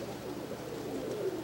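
Pigeons cooing softly and continuously in a loft of Golden Donek pigeons and other breeds, a low murmuring drone with no voices.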